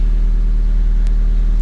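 Honda Civic engine idling steadily after an exhaust leak repair, a low, even hum running close and alone without talk.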